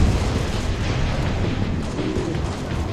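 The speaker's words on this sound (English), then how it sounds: "Even then I'm probably gonna have to stick him with a grenade." A grenade explodes in Halo Reach, a loud, rumbling blast that rolls on as a continuous deep roar with no separate cracks.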